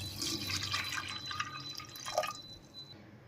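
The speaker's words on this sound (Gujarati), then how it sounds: "ચણા ડૂબે એટલું આપણે એમાં પાણી એડ કરી દઈશું" Water pours and splashes into a metal pressure cooker holding dried chickpeas, a steady trickling stream that tapers off, with a faint high ringing tone underneath.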